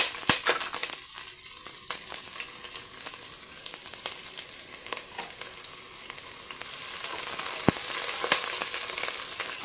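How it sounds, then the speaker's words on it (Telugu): Chopped onion and garlic frying in hot oil in a kadai, a steady close hiss and sizzle throughout with occasional light clicks of a utensil against the pan. "ఇలా బాండిల్ పెట్టేసి ఆయిల్ వేడైన తర్వాత మనం కట్ చేసి పెట్టుకున్న ఆనియన్,"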